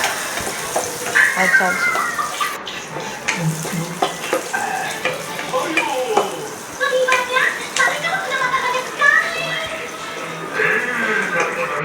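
Spices tempering in hot oil in a pan, a continuous close sizzle with stirring scrapes, partly under someone talking.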